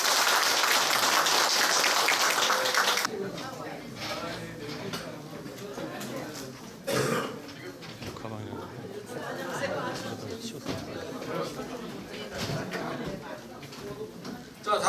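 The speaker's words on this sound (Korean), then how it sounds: "박장 교수의 박수 한번 드리겠습니다" Applause from the audience after a lecturer's talk at a forum, a loud burst of clapping at the start giving way to chatter and people talking in the room.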